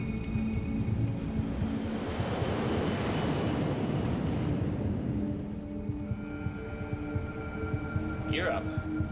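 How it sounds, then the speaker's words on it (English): An airliner's engines roar in a broad, sustained rumble during a takeoff run in winter conditions, swelling then easing, with a voice talking over it. "Despite the winter conditions, the takeoff is routine."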